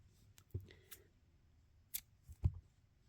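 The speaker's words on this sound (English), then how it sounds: "And then we're going to cut our yarn." Scissors snip through crochet yarn while finishing a round of a granny square, two or three short, quiet clicking cuts spaced across a mostly still moment with no talking.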